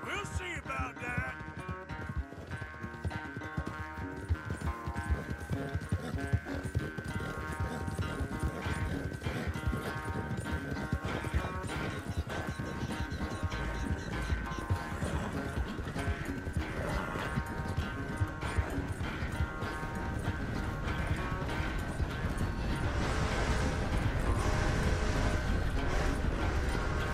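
Horse galloping in Red Dead Redemption 2, a continuous rapid clatter of hoofbeats with game music and voices talking over it throughout.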